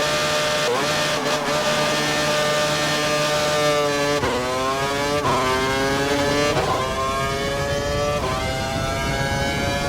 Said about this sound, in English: Head down the track, accelerating past 160 miles per hour, then brake so that you come to a complete stop in the designated area.